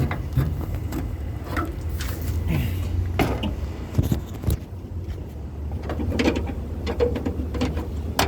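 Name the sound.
opening engine hood of Inokom Permas van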